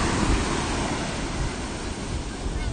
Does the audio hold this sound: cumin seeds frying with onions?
no